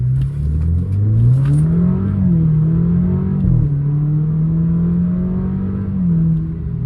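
An Alfa Romeo Giulia with a cold air intake revs and accelerates with a steady droning rumble, pitch rising and falling as it pulls away, with an airy intake whoosh in the background.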